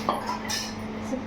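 A metal kadhai is set down on a plastic-covered surface and shifted straight, giving a couple of soft clinks and scrapes close by with no talking.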